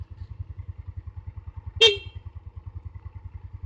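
A single short horn beep from a 2007 Mio Soul scooter sounds over the steady low putter of its idling engine nearby.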